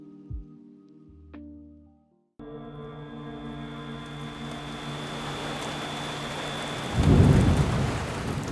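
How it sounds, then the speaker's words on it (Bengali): A rain and thunderstorm sound effect opening a Bengali horror story: a short musical sting gives way to a steady, loud hiss of rain, with a deep rolling thunder rumble swelling near the end. No voices. "সেদিন টিপটিপ করে বৃষ্টি পড়ছিল"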